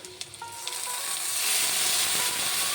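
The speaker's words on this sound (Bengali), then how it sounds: "পেঁয়াজটিকে দিয়ে একটু নেড়ে ছেড়ে ভেজে নেব।" Onion and cumin paste fries in a pan, a close, steady sizzle that swells louder after a few light scraping stirs at the start, with no voices.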